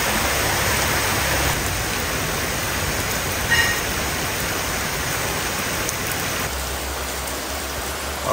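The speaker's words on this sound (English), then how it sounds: "this crazy rainstorm just kind of came out of nowhere" A sudden heavy rainstorm in Italy pours down as a dense, continuous hiss of rain on surfaces, loud and close, steady throughout with a few faint drips and knocks.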